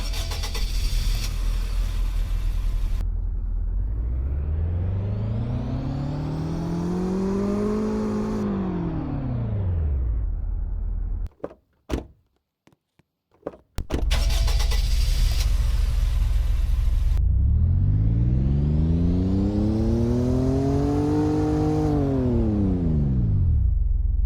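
A 2021 Falcon Stallion EcoBoost in a Roblox driving game starts up, its engine rising and falling in a long rev sweep. A brief dropout follows, then a second startup with the same climbing and falling engine note, loud and close.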